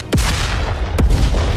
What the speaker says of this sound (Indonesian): Dan segera, ledakan keras pun segera terdengar.